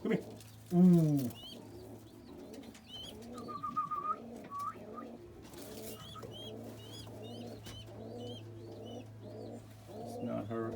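Soft, repeated cooing of a pouter pigeon hen in a quiet room, a brief flutter near the start and faint whistling tones in between.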